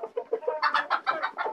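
Hy-Line White hens and roosters clucking nearby in a quick series of short, repeated calls, fairly soft, with no voices.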